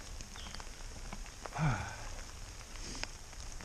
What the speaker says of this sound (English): it's been on and off, and you know, it's just drizzling now